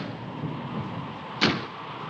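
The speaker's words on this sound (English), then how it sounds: "That's just the wind banging a door." A door banging in the wind against a house in a 1959 crime-mystery film: one sharp, loud thud stands out from steady wind noise and room hiss, then fades quickly.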